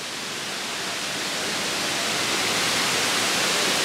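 Real outdoor waterfall with steady, dense rushing water, a continuous broadband roar holding an even level throughout with no talk over it.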